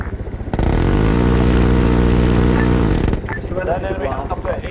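An enemy helicopter in the Arma 3 video game roars in as a loud, steady engine and rotor drone for about three seconds, with voices talking around it before and after.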